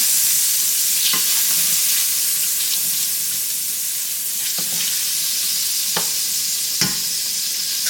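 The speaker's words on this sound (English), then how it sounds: "we're gonna add about a tablespoon of olive oil. Okay, and a tablespoon of butter. We're gonna melt this down." Butter melts with olive oil in a pan on the stove, giving a steady, loud broadband sizzle that runs unbroken, with a few soft clinks and scrapes of a utensil along the way.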